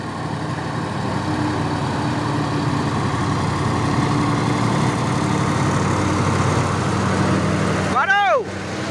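A heavy truck hauling a load climbs the Bukit Kodok hill, its diesel engine droning low and steady for several seconds before a brief sharp warbling squeal near the end.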